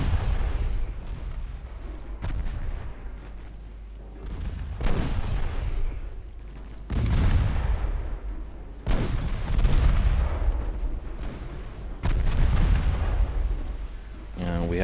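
Warship guns fire armor-piercing shells in the naval game Ultimate Admiral Dreadnoughts. Five or six deep, heavy booms land every couple of seconds, each trailing off in a rumbling decay.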